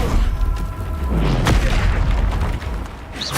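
Incendio fire spell going off in Hogwarts Legacy, a loud, deep booming blast with a sharp burst in the middle and rumbling fire noise around it, heard alone and close.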